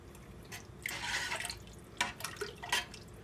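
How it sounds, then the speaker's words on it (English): Water is poured into a pot of lasagna soup, a soft splashing and trickling that rises and falls in short bursts, fairly faint and heard alone. "I'm actually going to add 1 more cup of water to this"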